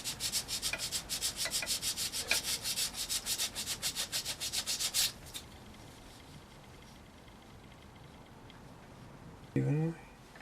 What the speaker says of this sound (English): I'm just going to sand that a little bit.